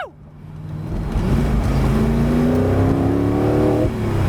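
A 2006 Spyker C8 Spyder engine pulls hard under acceleration, its loud, close roar climbing steadily in pitch for several seconds before easing off briefly near the end.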